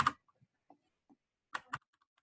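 A few scattered keystrokes on a computer keyboard, quiet and close, tapped in two small bursts with gaps between.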